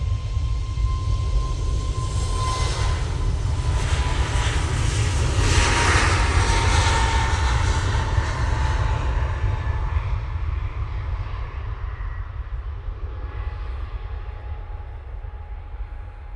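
Ryanair airliner passing at an airport, a loud sustained jet engine roar with deep rumble that swells, holds and slowly fades, heard from nearby outdoors with no talking.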